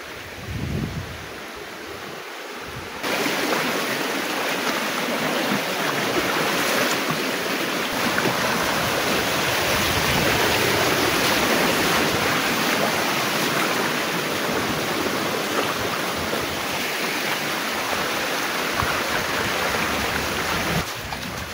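A stream on the Napittachhora waterfall trail in Sitakunda, Chattogram, rushes loud and continuous. After a brief, quieter start, it becomes an unbroken roar of flowing water with no voices over it.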